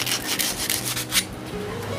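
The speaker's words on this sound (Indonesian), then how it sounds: "kita amplas sobat. Ya, dengan menggunakan amplas kasar ya." Coarse sandpaper rubs a fan bushing in steady back-and-forth strokes, a close, continuous dry scraping with no talk.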